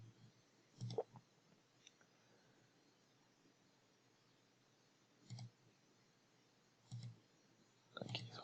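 Mouse clicks while working in Solid Edge CAM software: four soft, sharp taps spaced a second or more apart, some doubled, over a faint, steady room hiss.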